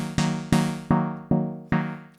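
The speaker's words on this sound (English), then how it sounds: "I have set up a relatively simple patch in Meld, with just an instance of chord in front to get the classic minor chord." An Ableton Meld synth patch, with a chord device producing a classic minor chord, plays five plucked chord stabs in an uneven rhythm, each one decaying quickly, fairly quiet and alone.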